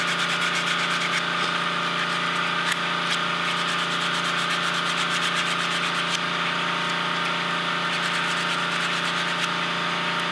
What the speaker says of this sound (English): This is 100 grit sandpaper